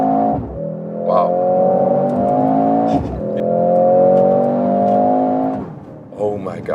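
A Mercedes-AMG GLC 63 SUV's combustion engine revs up in two long, loud, rising pulls with a brief dip between, heard from inside the cabin with no talking over it.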